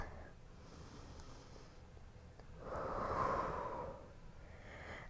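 One full, deep breath taken during a beginners' yoga flow: a long airy inhale or exhale swelling in the middle, soft and close, with faint breathy sounds before and after and no talk.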